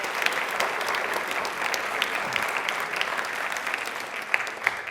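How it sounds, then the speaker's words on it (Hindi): Loud, steady applause from an audience on a Rajasthan quiz show, sustained throughout with dense clapping and a few sharper individual claps standing out near the end. "तालियां प्लीज एक बार जोरदार हो जाए सर के लिए"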